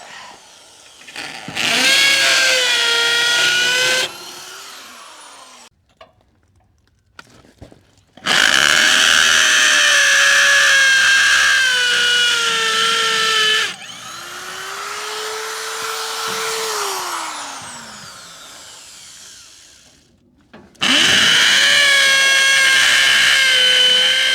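A power drill whines loudly in several bursts, its pitch rising and falling as it spins up and slows, with quiet pauses between.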